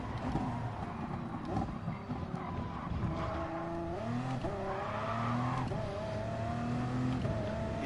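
A car accelerates hard with rising, revving engine tones that climb and shift in pitch, loud and steady throughout with no talking.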